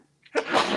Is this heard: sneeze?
yes